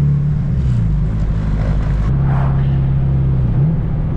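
A loud, deep turbocharged Honda D16Y8 engine in a Civic EK coupe drones steadily close by, its pitch dipping and rising as it revs, with a short break in the middle.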